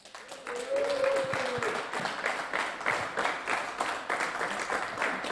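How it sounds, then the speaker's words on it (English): Applause from a small group for the winner of a sim racing DTM round at the Red Bull Ring, steady clapping with a few overlapping voices and a brief tonal sound early on, moderately close. "A huge round of applause for round 5 at the Red Bull Ring DTM race for Christian Kelly."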